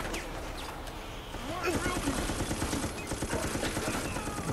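Rapid gunfire from a shooter video game about EMPs, bursts of shots rattling continuously and loud after a quieter opening, with a player's voice talking over the action.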